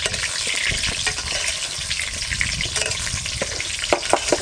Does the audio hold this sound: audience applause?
no